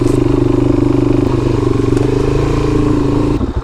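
Suzuki DRZ400 dirt bike riding through thick mud on trails, engine droning steadily close up with clattering and scraping from the ride, a brief dip near the end.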